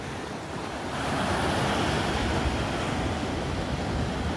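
Rough sea surf rolls onto the shore beside a fish market, a loud, continuous wash of breaking waves that swells after the first second, mixed with wind buffeting the microphone and no voices.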